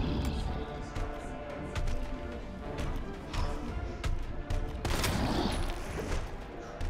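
Magnum shots in Resident Evil 2 Remake hit hard over a dense, noisy backdrop of thuds and crashes, with a few heavy reports standing out toward the end.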